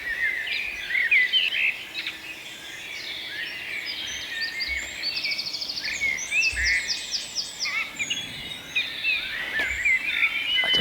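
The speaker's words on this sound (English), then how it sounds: "I don't know if you heard that wren in the background." Wren singing during a dawn chorus, rapid high-pitched strident trills repeating among other birds' chirps and calls, steady and moderately distant across the whole stretch.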